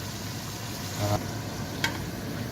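Potatoes fry in hot oil with a quiet, steady sizzle, and two brief clinks or knocks stand out against the faint crackle.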